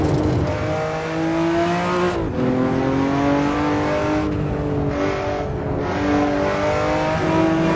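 A Ruf RT12 in Assetto Corsa drives hard, its engine a loud, continuous, close-up drone that climbs in pitch with revs, dips briefly at a gear change, then climbs again.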